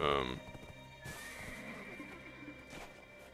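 A horse in Black Desert Online gives a short, loud whinny, then hooves clop softly at an uneven pace against a low background hum of game ambience.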